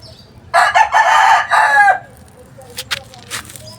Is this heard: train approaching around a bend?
no